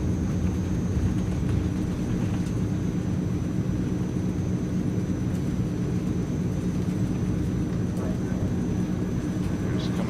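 A Transall C160 cargo plane takes off in Microsoft Flight Simulator, with a steady, loud engine drone and deep rumble running throughout, a voice talking over it.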